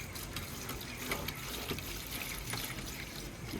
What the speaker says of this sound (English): we got the parts soaked in diesel